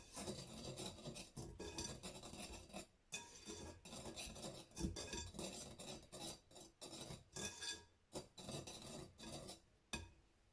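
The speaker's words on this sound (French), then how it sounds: "je prends mon fouet et je le mélange délicatement" A whisk gently stirs cornstarch into cupcake batter in a bowl, giving steady rasping, scraping strokes with brief pauses, close and fairly loud, with no talk.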